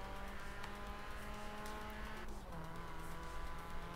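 Car engine from the Forza Horizon 4 racing game, a steady continuous drone with a shifting pitch, loud and close throughout with no talk.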